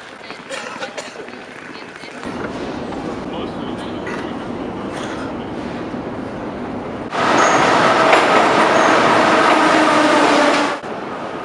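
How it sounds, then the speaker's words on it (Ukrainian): A passenger train rumbles and rattles along the platform at a Kyiv station after boarding ends, a loud steady roar of wheels and carriages that swells louder near the end, with background voices. "Закінчується посадка на фірмовий поїзд"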